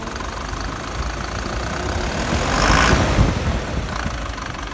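A Mercedes-Benz OF 917 medium bus diesel engine idles steadily, then its pitch and loudness rise briefly as it revs before settling back toward idle.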